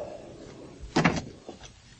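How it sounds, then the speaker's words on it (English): A door swings closed with one solid, nearby thud, followed by a fainter latch click a moment later in a quiet room. "Close the door."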